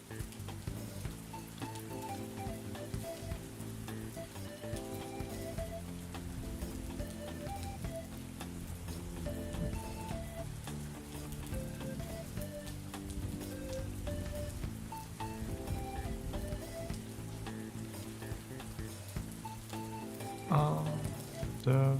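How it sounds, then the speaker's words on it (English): Rain patters steadily on a surface for the whole stretch, a soft, even, faint wash of drops with no talk over it. "I love rain days."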